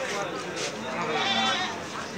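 Goats bleat amid the bustle of a rural livestock market near the India border, several animals calling over steady crowd noise with people talking close by.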